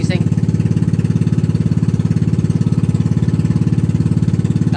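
A motorboat engine drones loud and close, a steady rapid pulsing throb that holds through the whole stretch without fading.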